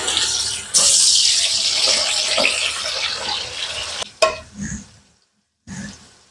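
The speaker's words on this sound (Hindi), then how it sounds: "इसको हमने 2 से 3 मिनट के लिए सिर्फ फ्राई करना है, ज़्यादा फ्राई नहीं करना।" Raisins, fennel seeds and coconut fry in a pan with a dense, steady sizzle that cuts off sharply near the end, followed by a few clinks and a short last burst of sizzling.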